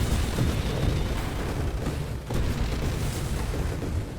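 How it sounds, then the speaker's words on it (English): Explosions fill the space shooter Nova Drift, a dense, loud, continuous barrage of overlapping booms and blasts that barely lets up, with only a brief dip midway and no voices. "Did somebody say explosions?"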